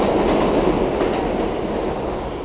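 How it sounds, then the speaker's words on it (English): An outdoor train rolls past in New York, a loud steady rumble with faint clickety-clack of wheels that eases slightly toward the end, with no voices over it. "Sorry, that's a train."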